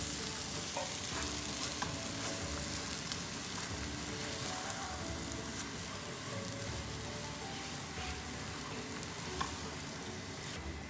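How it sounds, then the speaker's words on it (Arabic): Samosa filling of ground meat cooking in a pan on a stove, sizzling and frying steadily while a utensil stirs and scrapes through it in irregular strokes, close and continuous with no talking. "هاد المرحله انا غنقص البوطه مزيان وغنخلطهم باش تنسجموا لي العناصر كلها."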